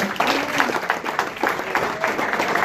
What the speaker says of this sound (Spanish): Denle un aplauso al Señor que ya restauramos esto